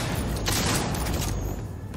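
Gunfire in Cyberpunk 2077, a dense burst of shots blurring together over a constant noisy game background, moderately loud and fairly close, with no talk.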